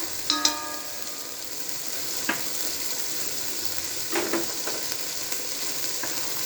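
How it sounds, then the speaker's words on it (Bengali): Cumin-coriander powder and spices fry in oil, giving a steady close sizzle with a few sharp clinks and scrapes from stirring, and no voices. "এর ভিতরে এখন আমি দিয়ে দিচ্ছি যে মশলাগুলো আছে, এগুলো একটু হালকা করে আমি ভেজে নেবো"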